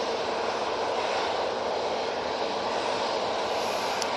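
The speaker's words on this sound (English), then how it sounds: "Next out should be this Ryanair going to Dublin." A Ryanair jet airliner departing Manchester Airport for Dublin gives a steady, full roar of engine noise that holds evenly throughout with no talk.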